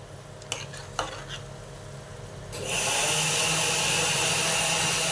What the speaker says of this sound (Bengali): ডিমটাও দিয়ে দিচ্ছি, এই ডিমটাও ভেজে রেখেছিলাম আলাদা করে, এই দিয়ে দিলাম।